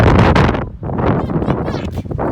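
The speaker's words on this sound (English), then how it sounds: "Big gust." A big gust roars through a wind storm beside a van that nearly tipped over, with a possible dust devil nearby. The sound is a loud, close broadband rush of wind buffeting the microphone. It dips briefly, then surges again.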